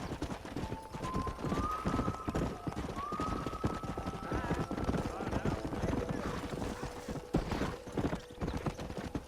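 Horse hooves gallop in the Red Dead Redemption video game, a rapid continuous clip-clop close up, with a rising whistle-like tone and faint game sounds layered over the rhythm.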